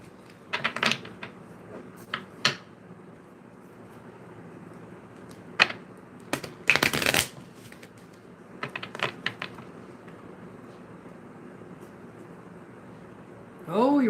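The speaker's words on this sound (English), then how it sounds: "give me a second while I really shuffle these" A deck of tarot cards is shuffled by hand, giving scattered soft taps and a few short, sharp riffling bursts at close range against a quiet room.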